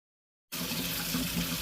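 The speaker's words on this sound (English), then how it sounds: "Gotta wash the peppers. Washing the peppers. Alright, now washing the jalapenos." Running tap water splashes steadily over jalapeño peppers being washed in a sink, starting abruptly after a brief silence and continuing as an even, close wash.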